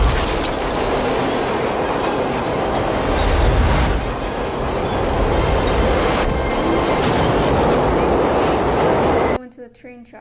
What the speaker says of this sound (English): Little did he know that a train was coming their way at full speed